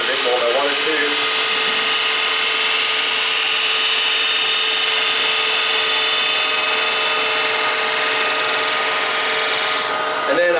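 A wood bowl spinning on a lathe as a turning gouge with a 40/40 grind cuts it, giving a steady, loud, continuous whirring hiss with a whining hum running through it for the whole stretch, with no break and no one talking.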